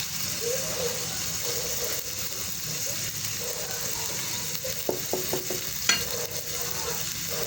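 Squid hits hot cooking oil in a pan for palabok, giving a steady loud sizzle with a few clinks and taps of a utensil stirring.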